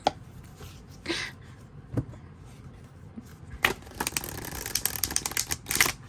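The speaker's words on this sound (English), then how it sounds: "I usually can shuffle pretty well." A deck of linen tarot cards is shuffled in several bursts of rapid riffling and tapping clicks, close and fairly loud, with short pauses between.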